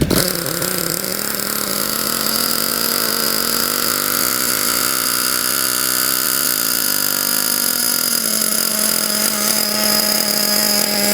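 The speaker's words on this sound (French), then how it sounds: "C'est ce que je kiffe dans le moteur thermique, c'est le bruit." A T2M Pirate 8.6 nitro RC car engine screams steadily and loudly at high revs for the whole stretch, a buzzy, whining drone with no talking over it.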